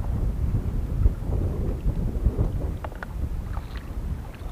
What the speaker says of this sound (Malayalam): ഓ, നല്ലൊരു കാറ്റുണ്ട് കേട്ടോ.